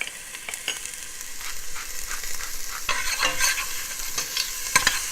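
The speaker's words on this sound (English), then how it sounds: "I'm just getting those onions around in the pan" Onions fry in olive oil in a pan, salted and peppered alongside meat, with a steady bright sizzle that swells as they are pushed around, and frequent scraping stirs and light utensil taps.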